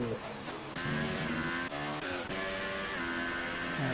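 Race cars in the F1 2018 game at the Australia round roar through the final corner, a steady loud engine drone with shifting pitch and brief gear-change dips, with commentary talk running over it.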